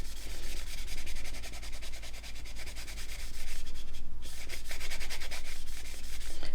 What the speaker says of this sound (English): just get my good old Trizac and give it a rub